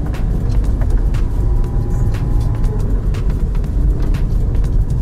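A Lada Niva drives along a tree line over a small hill, its steady engine and road rumble droning continuously and fairly loud from inside, with faint occasional knocks and no talk.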